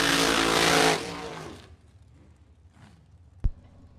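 A Chevy Malibu and another Chevy launch down a drag strip at a bracket racing event. Their loud engine roar fades quickly into the distance, followed by a quiet stretch and one sharp knock.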